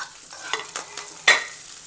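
Sliced onion and garlic frying in a pan for Mangalore-style chicken sukka, stirred with a few scraping strokes over a soft, steady sizzle, with one sharper scrape near the end.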